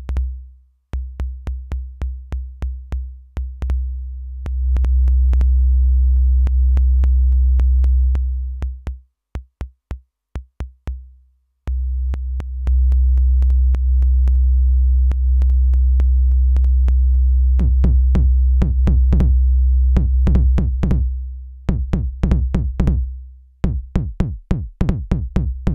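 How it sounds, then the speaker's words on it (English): A Snazzy FX Kick Me modular synth module producing a loud, deep sub-bass boom that self-oscillates into long droning stretches, alternating with rapid, punchy kick-like thumps. "There's just one knob controlling the strength of the boom sound"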